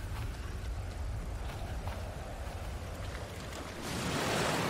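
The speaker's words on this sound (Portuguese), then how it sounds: "Olha as ondas." Stormy ocean waves in the survival game Stranded Deep roll in a steady rushing wash with wind noise, swelling louder toward the end, with no talking.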